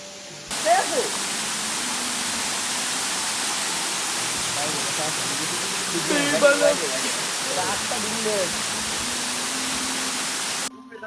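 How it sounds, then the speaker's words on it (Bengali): A waterfall at Sitakunda roars as a loud, constant wash of falling water, with people talking over it in bursts. "দেখেন জাস্ট ঝর্ণাটা দেখেন।"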